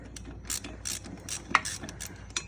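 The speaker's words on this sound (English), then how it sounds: "A very smooth ratcheting action on these Olsa Tools swivel head" Olsa Tools swivel head ratchet clicking through a series of short, quick ratcheting bursts at close range while turning drive shaft bolts, with no voices.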